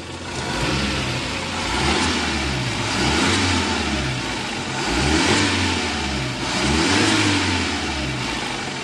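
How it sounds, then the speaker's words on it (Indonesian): A car engine with a faulty camshaft position sensor is revved in several swells, rising and falling about every two seconds over a steady mid-pitched idle, recorded close with no voices. "Coba kita gas."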